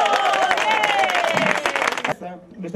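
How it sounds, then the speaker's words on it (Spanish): Audience applause after a lively folk-style musical piece on a sound walk, dense clapping for about two seconds with a sung tone fading under it, then breaking into scattered claps and voices. "¡Un aplauso!"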